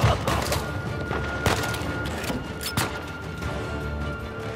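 Sustained gunfire from a firefight in the video game Uncharted 4, with repeated sharp shot cracks and bursts over a busy, steady background of combat noise.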